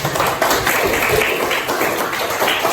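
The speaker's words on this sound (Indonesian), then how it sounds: "tepuk tangan dulu" A music class applauds a student after a song performance, a roomful of hands clapping steadily and fairly close, dense overlapping claps with a few louder taps.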